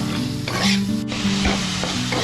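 Chopped tomato tips into spices fried in oil until the oil separates, giving a loud sizzle with stirring and scraping throughout, and a brief burst as the pieces land.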